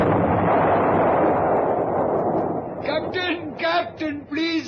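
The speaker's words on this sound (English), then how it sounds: "your big cannon firing from the deck like this" A ship's deck cannon fires aboard a boat on the Irrawaddy as a loud, broad blast with a long rumbling decay, followed by someone talking close by.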